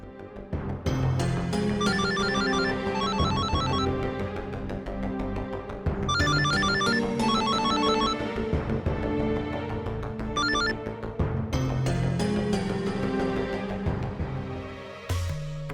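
A phone ringtone plays a repeating electronic melody, fairly loud and continuous, cycling through its tune several times without any talking.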